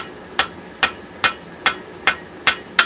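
Seven evenly spaced, sharp hammer blows ring out as a pair of tongs is forged down, each strike loud and close with a brief ringing decay, no talking.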